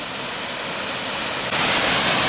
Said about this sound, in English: have a look at the waterfall just below us